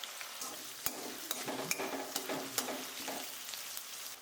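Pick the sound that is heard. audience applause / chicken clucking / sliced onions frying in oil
sliced onions frying in oil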